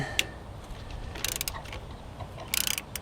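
A nut being worked off a long through-bolt with a ratchet wrench, giving short bursts of quick metallic clicks that come and go in separate spurts, close up.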